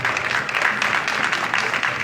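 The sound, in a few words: applause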